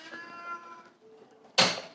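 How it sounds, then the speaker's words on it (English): A male cat meows indoors, a harmonic vocal call of just under a second, followed after a pause by a short sharp noisy burst that may be the same cat. "my cat is agreeing because he's just decided to open up his mouth and talk to everybody"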